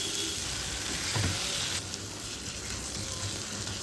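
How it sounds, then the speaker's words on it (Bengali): Tomatoes and green chilies fry with salt and turmeric in a pan for handi chicken, giving a steady close hiss and sizzle with one brief stir partway through. "টমেটোটা কিন্তু ভালোভাবে কষাতে হবে যাতে টমেটোটা গলে যায়"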